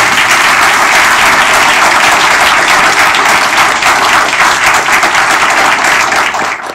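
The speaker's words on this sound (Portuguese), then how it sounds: "eu gostaria de pedir uma salva de palmas" A seminar audience marking 30 years of the Brazilian constitution bursts into sustained, loud applause, a dense wash of many hands clapping that holds steady for several seconds and only thins slightly at the end.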